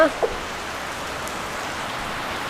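Heavy rain pours down in a dense, steady roar of drops, loud and continuous throughout.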